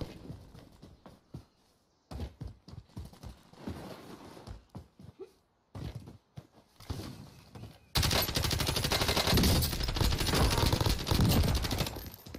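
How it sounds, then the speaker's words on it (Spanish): Shotgun blasts and other gunfire in the battle-royale video game Warzone: scattered sharp shots in the first part, then a dense, loud sustained burst of firing for the last few seconds. "Yo escucho los tiros de shotgun."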